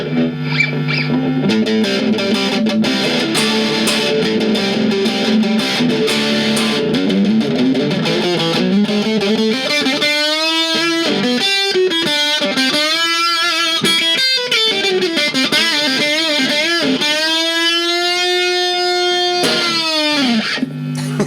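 An electric guitar plays through an MXR Juvenile Prime distortion pedal, thick saturated chords giving way to bending, wailing sustained lead notes, loud, close and continuous, with no voices.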